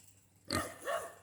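A farm pig grunts close by in a pen, two quick snorting grunts after a brief quiet start.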